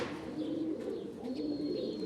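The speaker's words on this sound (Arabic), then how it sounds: "طيور ثلاث ارباعها هايجة." Pigeons cooing steadily in a loft, several low overlapping coos close by with a faint higher chirp now and then, no talking.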